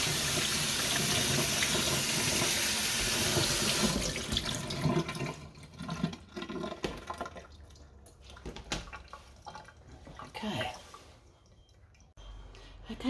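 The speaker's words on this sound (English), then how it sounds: "I'm going to run them under cold water to cool them down" Cold tap water runs steadily over freshly boiled potatoes, a loud continuous splash that gives way to quieter trickling, dripping and handling sounds in a sink.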